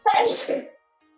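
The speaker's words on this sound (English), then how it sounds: "Good sneeze." A single close, loud sneeze, short and sharp, then silence.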